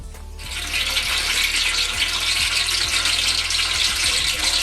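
Running water from a tap pours steadily as chopped mutton is washed for a karahi, a close, continuous hiss with a low hum and occasional clinks underneath.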